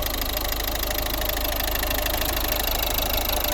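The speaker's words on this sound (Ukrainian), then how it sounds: "Спеціально зарані зняв кришку, щоб було чути, як працює двигун." A 1.6-litre diesel engine in a 2011 Volvo V50 R-design idles close by with its cover removed, a constant low rumble with an even mechanical knock running throughout, no voices.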